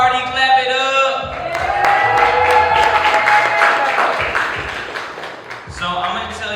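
Audience applause at a book release and birthday party, a crowd clapping steadily for several seconds with cheers mixed in, swelling in the middle and fading near the end.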